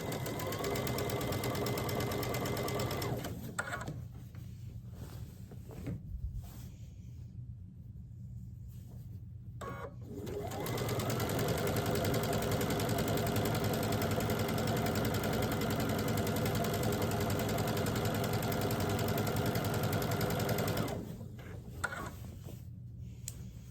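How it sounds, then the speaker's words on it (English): A sewing machine stitches a log cabin quilt panel with a 1/4 inch seam, running in steady close whirring bursts with short pauses between seams and no talk. "everything I'm stitching on this is 1/4 inch."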